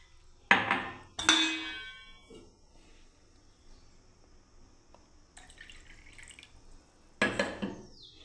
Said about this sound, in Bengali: আমি আস্তে আস্তে আমি একটু করে জল দিচ্ছি বন্ধুরা, ফেটিয়ে নিচ্ছি ভালো করে